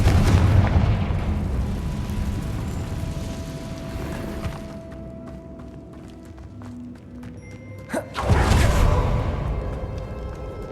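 A Confringo spell explosion in the video game Hogwarts Legacy, set in a cave, goes off as a loud booming blast that rumbles and decays. A second sharp burst follows near the end, over low game ambience.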